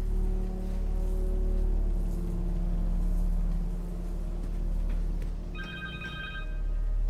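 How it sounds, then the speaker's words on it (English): A telephone rings in the Marvel's Spider-Man 2 video game: a short burst of electronic ringing rises near the end over a steady low game ambience and hum, with no speech. "Phone."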